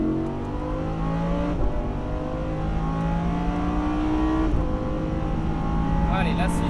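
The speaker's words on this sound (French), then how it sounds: "Et là, tu mets gaz à fond." A Lamborghini Huracan accelerates at full throttle on a race track, its engine climbing steadily in pitch, dropping briefly at two gear shifts and then rising again, loud and sustained from inside the car, with an instructor speaking.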